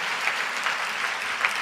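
Many hands from a church congregation clap hard together at a sermon, a continuous loud wash of applause with no one speaking.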